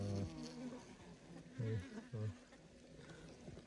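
Honey bees buzz at a hive, with a steady droning hum broken by louder, lower swells as individual bees pass close by, and faint background noise.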